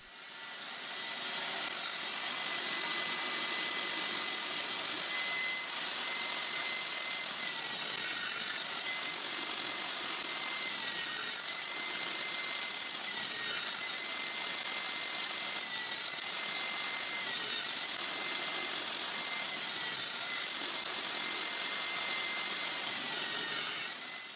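A table saw runs steadily with a whining blade as straight cuts trim the protruding corners off a wooden workpiece for a circle jig, the pitch dipping briefly with each pass, continuous and close with no talking.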